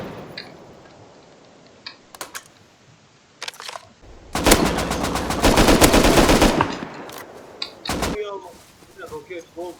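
Automatic gunfire from the survival video game Rust: a sustained loud burst of rapid shots lasting a couple of seconds, preceded and followed by scattered single clicks and short bursts, with players talking in the background.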